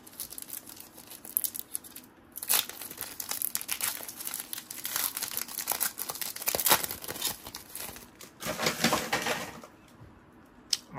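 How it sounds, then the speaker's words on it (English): A foil wrapper on a Panini Donruss Optic basketball trading card pack is torn open and crinkled. Loud, close crackling and ripping bursts keep going through the stretch, with brief pauses between them and no voices. "So let's open our first pack. 5 cards per pack. Let's open this."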